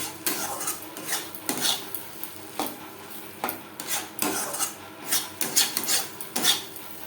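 Poppy seed paste stirred in a kadai on a medium flame with a utensil: repeated rasping, scraping strokes against the metal, about one every half second to second, close and steady with no talk.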